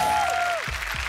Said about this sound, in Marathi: जोरदार टाळ्या झाल्या पाहिजे त्यासाठी